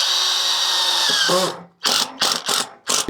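Power drill driving fasteners to secure an RV furnace to the vehicle frame: a steady whine for over a second, then several short bursts with brief pauses, close and loud.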